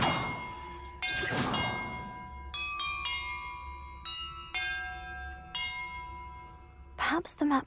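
Bells struck one at a time in Hogwarts Legacy, several distinct ringing tones of different pitch with long decays, followed by a clangy burst near the end, no talk.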